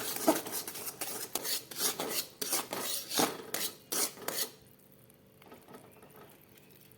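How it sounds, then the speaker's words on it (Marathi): A spoon scrapes and rubs around a pan of thick sesame and jaggery syrup in quick, rhythmic strokes, then the stirring stops and a quiet hum remains. "आपण अजून एक मिनिटभर हलवूया एक ते दोन मिनिट"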